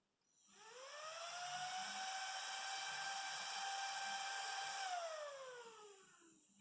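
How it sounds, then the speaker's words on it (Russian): A small computer case fan, freshly wired up to test red-plus and black-minus polarity, whirs up to a steady whine within a second, holds for about four seconds, then winds down, close and fairly quiet. "Тут у нас еще специальные стрелки, куда должен вращаться вентилятор."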